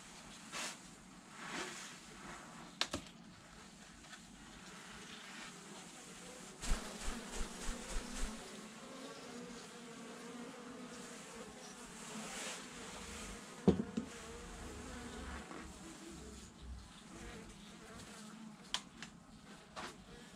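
A honeybee colony buzzes as the hive is opened in November, a continuous soft, busy drone of many bees with occasional louder passes and light handling knocks nearby.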